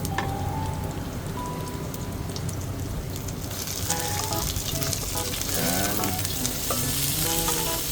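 Garlic and other ingredients sautéing in a pan, a constant dense sizzle that swells louder partway through as more food goes in, with occasional clinks of utensils against the pan and no talking.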